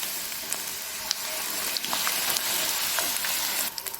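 Samosas dropping into hot frying oil, a dense, bright sizzle that crackles continuously with small pops and bubbling bursts, close up and without talk.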